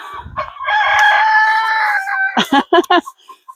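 A rooster crows loudly and close by, one long drawn-out call followed by a few short clucks.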